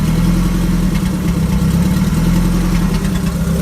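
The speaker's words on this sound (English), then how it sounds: "just want to make a quick clip of the stock engine still running and driving" A stock Honda B16 engine in a hatchback runs at a steady idle close to the mic, a loud, even mid-pitched hum with a low throb and no revving.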